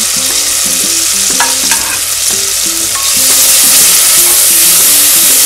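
Spices stirred and fried in a pot for capsicum pulao, with ginger paste in the oil: a steady, loud sizzle with repeated scraping of a spoon, the frying growing more intense toward the end.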